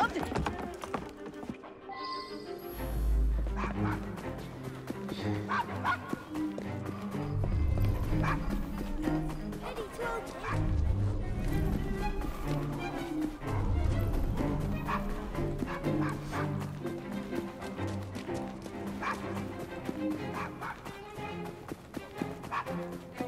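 A dog barks repeatedly in the video game Assassin's Creed Syndicate, over a continuous bed of music and game sound, with occasional whimpers and a voice speaking.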